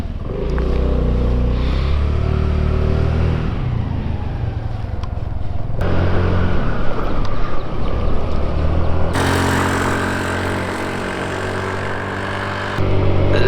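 A small Honda Navi motorcycle runs steadily while being ridden, its engine droning loud and close with rising and falling revs over about thirteen seconds of continuous wind and road noise.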